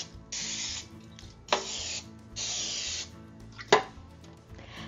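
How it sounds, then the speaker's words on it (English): Non-stick cooking spray is sprayed into a 13 by 9 baking pan, coming in several hissing bursts of about a second each, close up, with a couple of sharp clicks and knocks between them. "spray it with non-stick cooking spray"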